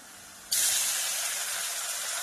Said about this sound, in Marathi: आता मी टाकून घेते टमाटर